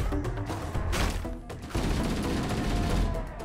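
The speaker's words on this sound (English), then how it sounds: "See how useful the assault rifle is?" Assault rifle fire in Halo CE comes as bursts of sharp automatic shots, with impacts and crashes mixed in, close and fairly loud against game ambience.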